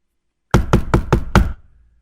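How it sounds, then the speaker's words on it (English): Five firm knocks on a door in quick, even succession, close and distinct, followed by silence, with no voices. "his dad had already went to the door and was beginning to knock"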